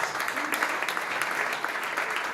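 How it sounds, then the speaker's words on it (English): Dense, continuous applause from a large audience at a healthcare and biotech startup pitch competition, loud and sustained throughout. "give yourself a freaking big applause for all of you being here"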